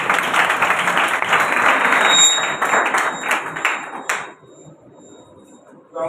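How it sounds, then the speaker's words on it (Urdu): Applause from a church congregation during a sermon, a dense burst of clapping lasting about four seconds before cutting off into quiet room tone. "زوردار تالیاں اپنے لیے"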